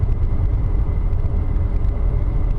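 Car driving at 40 km/h on a cleared winter road, steady low road rumble and engine drone heard from inside the cabin, continuous and moderately loud with no talk.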